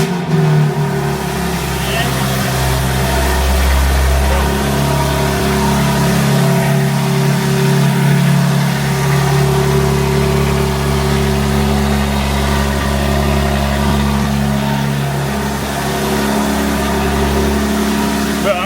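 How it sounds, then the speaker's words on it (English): A BMW M3 G80 engine cold-starting and settling into idle, a loud, steady low rumble that holds for the whole stretch with only slight swells in revving. "This is cold start for y'all."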